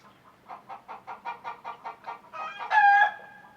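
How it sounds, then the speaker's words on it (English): Chickens stirred up by a nearby grinder cluck in a steady run of short, evenly spaced calls, then break into a louder drawn-out holler, fairly close and with no talk. "I got the chicken stirred up with a grinder."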